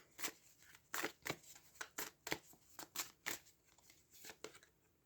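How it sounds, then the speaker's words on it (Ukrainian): Crisp tarot card flicks and snaps in a quick irregular series, close and fairly quiet, like a deck being shuffled and cards pulled out. "Для козорогів одночасно витягнула дві карти."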